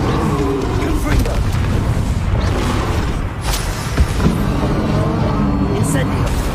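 A Confringo explosion spell cast in Hogwarts Legacy, heard as loud, booming blasts over dense, continuous combat noise, with a sharp burst near the four-second mark.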